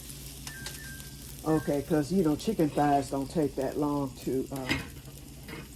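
Pot of chicken thighs, smoked sausage, onion and garlic boiling over on a stove, giving a bubbling, sizzling sputter in rapid bursts close by while a person talks over it.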